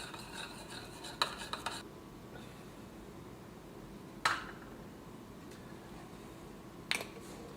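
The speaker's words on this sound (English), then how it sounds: "we're going to use a spoon and stir that together" A spoon stirs a witch hazel hand gel mixture in a bowl, making a low, gritty rubbing swirl with a few sharp clinks of metal against the container, close and quiet, no voices.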